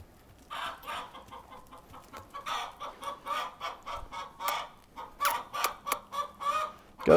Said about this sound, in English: Go check out that squawking chicken.